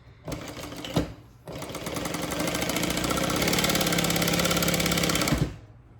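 A sewing machine bastes a handbag, starting with a couple of brief stitching bursts, then running steadily in a fast, even whir for about four seconds before stopping, close and alone.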